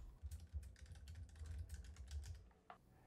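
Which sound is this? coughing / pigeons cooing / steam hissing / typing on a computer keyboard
typing on a computer keyboard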